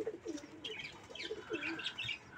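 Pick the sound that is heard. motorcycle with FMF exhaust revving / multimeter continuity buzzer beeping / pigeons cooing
pigeons cooing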